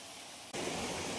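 Kudiya waterfall roars steadily; after a brief quieter moment the broad, rushing water noise suddenly swells to a loud, constant wash.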